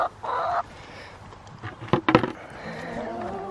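Laying hens, including Easter egg layers, give a few short clucks close by, bunched in the middle of an otherwise quiet moment.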